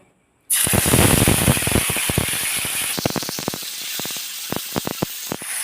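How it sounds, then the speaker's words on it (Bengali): Marinated meat drops into hot oil in a home kitchen, setting off a loud, continuous sizzle, with sharp spattering crackles and pops throughout and no talking. "এবার আমি এই তেলের মধ্যে দিয়ে দেব ম্যারিনেট করা মাংসটা"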